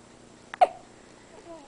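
An infant boy hiccups during tummy time: a tiny catch followed by a sharper hiccup, close and soft in a quiet room, then faint babyish vocal murmurs a moment later.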